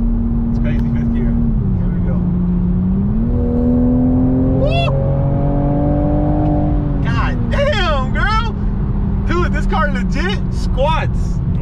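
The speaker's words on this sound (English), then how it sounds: "we're gonna do a quick little fifth gear pull here" Toyota A90 Supra pulling in fifth gear, a loud in-cabin engine drone climbing steadily in pitch, with excited voices talking and shouting over it throughout.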